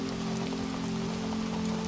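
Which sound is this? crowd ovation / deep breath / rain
rain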